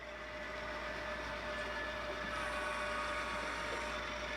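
A small HO scale model train hums and whirs steadily along a track through an S-curve, a constant low mechanical rumble with a faint high whine, no voices.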